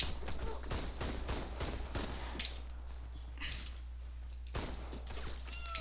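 Gunfire in the first-person shooter Warface, a rapid burst of sharp repeated shots up front, then scattered single shots and impacts with a low hum underneath, fairly quiet overall.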